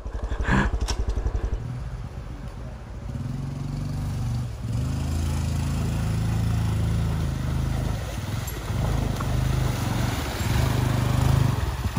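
Honda Trail 125 and Honda Grom motorcycles chug through mud, small engines putting and revving unevenly near the mic, with a brief burst of rapid clatter at the start and sloshing strain as they push on.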